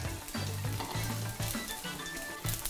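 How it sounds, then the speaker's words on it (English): Dried anchovies toast in oil over medium-high heat for a gochujang stir-fry, sizzling loudly and steadily up close with a few rhythmic stirring scrapes and no talk. "Then we're gonna add our dried anchovies. So you should immediately hear that sizzling sound."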